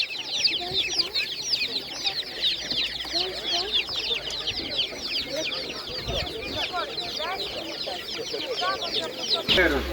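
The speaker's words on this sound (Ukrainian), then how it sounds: "такі добові курчатка" Day-old chicks at a Ukrainian animal market: many tiny birds cheep in a dense, continuous chorus of high, rapid peeps, close and fairly loud, with a dull knock near the end.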